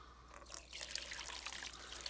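Water poured from a container into a test setup for a black tank treatment, a steady trickling, splashing pour rising after a quiet start and continuing close by.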